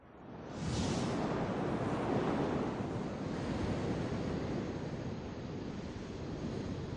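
Surf rolls onto a tropical beach near Cartagena at night, a broad continuous wash of waves that swells in and then stays steady and fairly loud, with some wind buffeting on the microphone.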